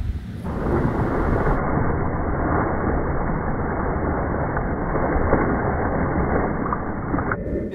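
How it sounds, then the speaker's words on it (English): A dense, steady roar of heavy rain and rumbling thunder from an approaching storm at sea while fishing from a small boat, loud and continuous with no voices. "there's this giant rain wall that decided to come pay a visit, so it was time to stop"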